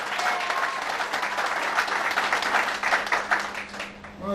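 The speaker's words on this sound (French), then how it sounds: "Des applaudissements" Guests at a French civil wedding ceremony in a town hall clap together in a brisk, steady burst of applause, close and fairly loud, fading slightly at the end.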